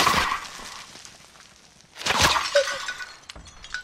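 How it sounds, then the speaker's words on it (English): In Warzone, gunfire shatters glass in two sharp, crashing bursts, one at the start and another about two seconds later, each trailing off in tinkling fragments. "He's shooting through the glass"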